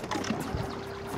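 A small boat's outboard motor has its throttle briefly revved while trolling close along a riverbank, a steady engine drone with a short surge, heard alone.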